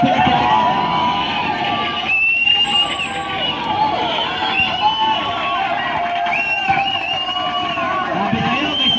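A crowd at a Firebirds versus Red Wolves basketball game shouts and roars continuously, with sharp sneaker squeaks cutting through, under steady commentary talk.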